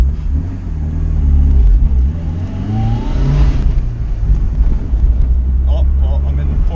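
Mitsubishi Lancer Evolution 4 rally car pulling through the gears with a loud, steady engine roar and rising pitch, heard from inside the cabin alongside wind noise while occupants talk.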